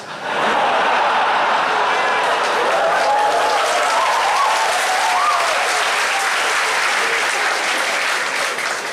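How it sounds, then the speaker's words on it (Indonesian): An audience in a university campus mosque bursts into loud, sustained applause, a dense even roar of clapping lasting several seconds with faint voices mixed in. "Kenapa tepuk tangan nih?"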